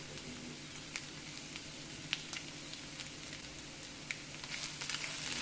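Egg bun filling frying in a pan over high flame, a low continuous sizzle with soft scattered stirring taps, faint and close, no talking.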